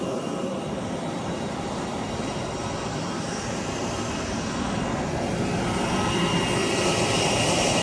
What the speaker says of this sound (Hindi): एयरप्लेन से बहुत ज़्यादा आवाज़ आ रही है